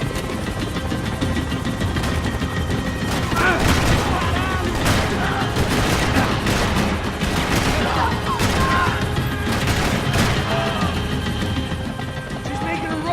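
Sustained gunfire and bursts in Max Payne 3 during a vehicle chase, loud and dense throughout, with shouted voices breaking through the shooting.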